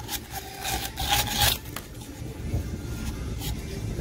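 PVC pipe edges and chamfer are deburred by hand, giving a rough, repeated rasping scrape in short strokes, close and fairly quiet against a low background rumble.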